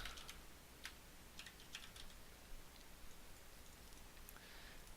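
Someone types on a computer keyboard, giving a quick, irregular run of light clicks and taps. The typing is faint and close, in a quiet room.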